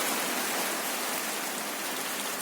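Steady, dense rain pours down in an even hiss without a break, close and fairly loud, with no voices over it.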